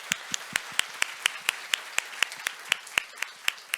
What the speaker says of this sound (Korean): 여기서 꼭 박수 한번 할까요?